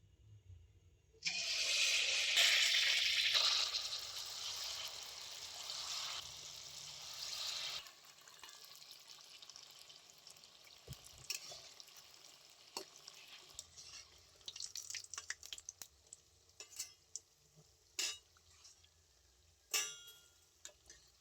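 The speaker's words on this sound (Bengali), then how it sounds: "এবারে আমি লাউয়ের ফুরলিগুলো ভেজে নেব।" Bottle gourd fritters dropped into hot white oil burst into a loud, bright deep-fry sizzle that gradually settles into a quieter bubbling, with scattered spatter pops and utensil clicks later on.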